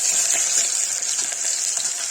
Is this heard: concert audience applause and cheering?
no